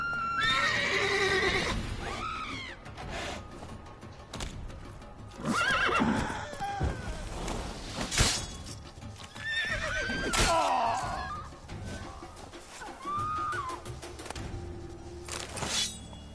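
Roach, a horse in The Witcher, gallops with rhythmic hoofbeats and lets out several loud neighs and whinnies across a medieval game landscape.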